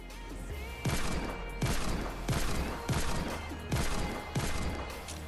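Six loud, evenly spaced revolver hand cannon shots from Fortnite Save the World, each a sharp crack with a booming tail, over a constant low game hum.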